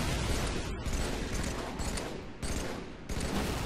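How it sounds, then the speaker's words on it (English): Steady automatic gunfire from the video game Halo 3, loud and continuous over about four seconds, with two brief gaps in the rattling bursts. "Just gonna try and lay some shots into him."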